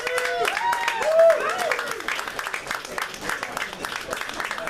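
A comedy-club audience claps and cheers as comedian Michael Adams is introduced, with a few whoops over steady, moderately loud applause.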